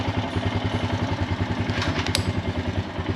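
A 450ES motorcycle engine idles slightly high with a steady, even pulsing thrum, close and loud, and a brief mechanical clatter partway through.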